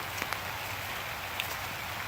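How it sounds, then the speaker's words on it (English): Steady rain falls outdoors in Pennsylvania, a continuous soft hiss of drops on surfaces with a few brighter patters, fairly quiet and without voices. "it's raining here in Pennsylvania"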